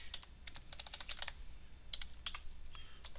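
Keys on a computer keyboard are tapped in quick, irregular clusters of close, crisp clicks, with short gaps between the bursts.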